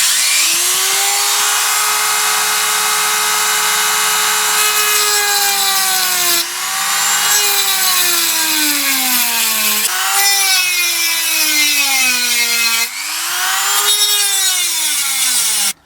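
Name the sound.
Dremel cutting small section with worn-down cutting disc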